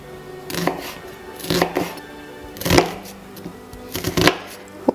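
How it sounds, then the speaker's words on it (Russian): A knife cutting an onion into thin half-rings for turkey fricassee, with four distinct chopping strokes against a board, some as quick double knocks, near and crisp with no talk. "Нарезаем лук тоненькими полукольцами."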